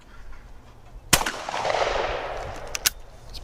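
A single loud shotgun blast in an outdoor trap shooting session, a sharp crack followed by a long rolling echo, with a second fainter pop near the end and no talking.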